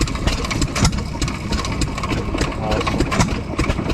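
Old hit-and-miss engine running at a steam and gas engine show in Arcadia, Maryland, a close rhythmic chugging and popping beat under people talking nearby.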